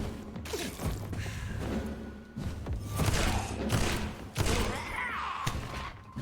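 Shotgun blasts in Vampyr ring out as several loud, separate booms with thuds and whooshes between them, close and punchy, with no voices over them.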